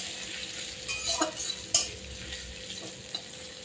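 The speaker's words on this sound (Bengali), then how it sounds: "এবার নিম পাতাগুলো একটু আমি ভাজা ভাজা করবো" Neem leaves fry in a pan with a steady hiss while a utensil stirs them, scraping and clicking against the pan in a few sharp, close knocks over the low sizzle; no one speaks.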